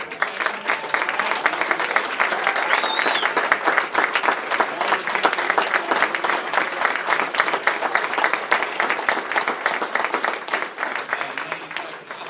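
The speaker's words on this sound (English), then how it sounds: "let's give those guys a round of applause" Sustained applause for the chefs at a gala chef-of-the-year dinner, a dense, even wash of many hands clapping that stays loud for the whole stretch.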